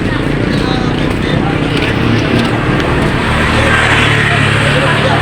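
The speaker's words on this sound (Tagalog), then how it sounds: "naririnig niyo yung mga sasakyan" Steady roar of passing cars and motor vehicles near a busy public market, continuous and fairly loud road noise with engines rumbling under it.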